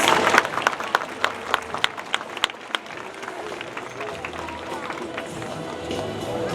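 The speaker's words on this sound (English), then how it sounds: "So how about a big round of applause for Corky, Ike, Orchid, and Keet" Audience applause for the killer whales Corky, Ike, Orchid and Keet at the Shamu show at SeaWorld San Diego, sharp claps loud at first and then settling into a steady, softer patter from the crowd in the stands.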